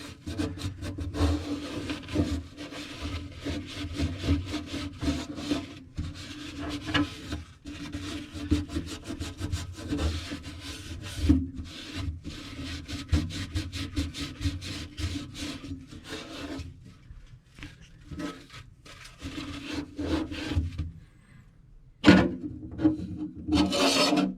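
Steady scraping and rasping of a tool against old putty on a sink drain, a continuous rough grinding texture with brief pauses near the end, close and alone without talk.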